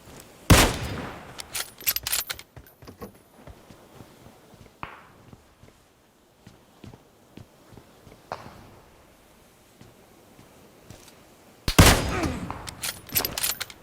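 Gunfire from the mobile battle royale game PUBG Mobile, including headshot hits: a sharp burst of rapid shots opens, scattered quieter shots and movement follow, and another loud volley erupts near the end.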